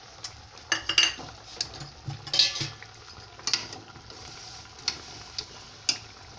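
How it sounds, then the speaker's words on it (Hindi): A spoon stirs a sesame and jaggery mixture for laddoos in a pan, making irregular light clinks and scrapes against the metal, near and fairly quiet, with short pauses between strokes. "अब इसी तरह से थोड़ा चलाते रहना है जब तक ये थोड़ा सा सूख ना जाए"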